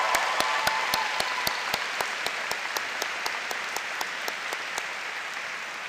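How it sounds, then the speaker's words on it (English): A round of applause from the crowd at a law school commencement, a steady, even wash of many people clapping, with sharp regularly spaced claps standing out near the front throughout. "Can I get a round of applause for that?"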